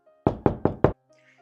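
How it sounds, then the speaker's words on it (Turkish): Four crisp, evenly spaced knocks rap on a door in quick succession, loud and close, then stop, leaving near silence. "her eve bu kralın adamı gidiyor ve kapıyı çalıyor"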